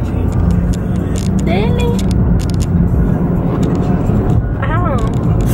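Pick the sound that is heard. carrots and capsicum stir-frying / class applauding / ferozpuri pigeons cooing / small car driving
small car driving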